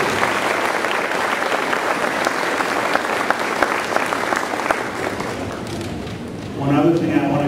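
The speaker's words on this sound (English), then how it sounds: "So let's give them a round of applause." Audience applause at an elementary school Grandparents Day event, a dense steady clapping from a large crowd that carries on for several seconds before thinning out, with a voice rising at the end.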